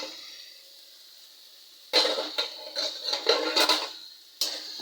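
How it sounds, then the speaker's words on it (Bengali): A metal lid comes off a pot of homemade pasta sauce with ginger and tomatoes, breaking a quiet hush with a sudden nearby clatter, then a few more light clinks and scrapes against the rim. "এবার ঢাকাটা খুলবো দেখি কী হয়েছে"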